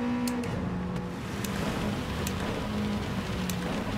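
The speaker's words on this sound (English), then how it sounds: "Mega rain." Heavy rain pours down in Gran Turismo 7 during a NASCAR-style race, a steady dense hiss joined by a droning race car engine throughout, with no talk.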